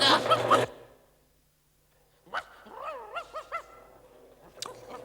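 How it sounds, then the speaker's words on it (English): Cartoon dog making noise at night: a short burst of sound, then silence, then a string of wavering yelps and whimpering howls, fairly close and moderately loud. "Someone shut that dog up."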